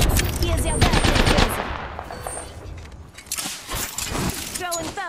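Rapid automatic gunfire rattles in dense bursts during a video game firefight, loud and close, with shorter volleys and clatter following and game voice lines over it.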